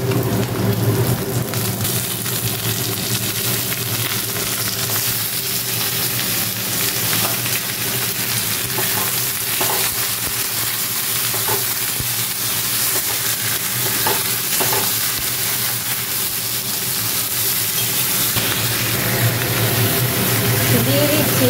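Mutton is frying with browned onions in a pan, a loud, continuous close sizzle with stirring that stays steady throughout.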